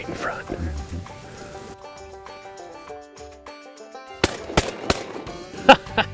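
Several sharp shotgun blasts at ducks crack out in quick succession, spaced a fraction of a second apart, over a background of voices, during a North Dakota duck hunt.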